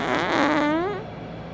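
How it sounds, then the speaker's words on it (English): A drawn-out, squeaky fart with a wavering, rising pitch, loud and close, about a second long before trailing off into quiet. "Sniff my fart."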